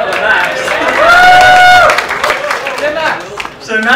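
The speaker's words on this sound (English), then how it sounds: "Give a clap for Max." Audience clapping and cheering after a stage physics demonstration, loud and swelling briefly with excited voices and a whistle-like tone, then fading as a presenter's voice returns.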